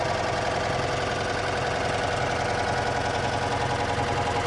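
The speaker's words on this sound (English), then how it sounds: "Little 600cc air-cooled engine. All been rebuilt and chugging away nicely." A rebuilt 600cc air-cooled engine in a 1966 Citroen Ami 6 idles under the open bonnet, a steady close chugging drone that runs evenly throughout with no talk.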